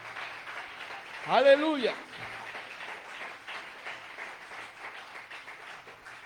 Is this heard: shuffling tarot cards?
no